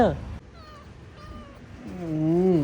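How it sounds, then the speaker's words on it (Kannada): A house cat meows indoors, giving a long wavering call near the end, close and clear, after a short voiced sound at the start. "ಇಲ್ಲಿ ನಮ್ಮ ಕ್ಯಾಟ್ ಎಲ್ಲಿಗೆ ಹೋಗೈತೆ?"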